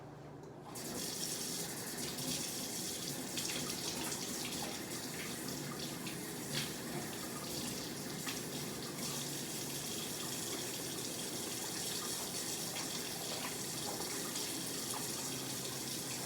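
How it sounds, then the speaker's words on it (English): Steady running water gushes from a faucet into a sink, a constant hiss that continues without pause. "So I'm going to go ahead and turn the water on."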